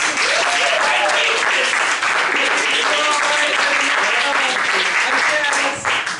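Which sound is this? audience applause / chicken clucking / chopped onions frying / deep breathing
audience applause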